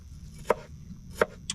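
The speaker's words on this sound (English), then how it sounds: "fine chopping onions" Onions being finely chopped with a knife on a chopping board in a cramped van kitchen: three sharp, separate knife taps against the board over a quiet background hum, with no talk.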